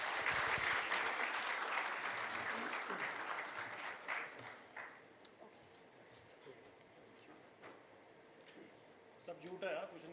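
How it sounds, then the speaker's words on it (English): Conference audience at an HR conclave applauds to welcome a speaker, loud clapping at first that thins and fades over several seconds, then voices talking and brief scattered noises. "with a warm round of applause"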